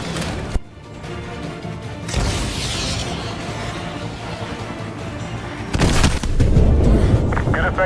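A BTR armoured vehicle blows up in the video game MW2 Remastered: two heavy, loud booming blasts with crashing debris, the first at about two seconds and a second, stronger one near six seconds, over continuous rumbling battle noise.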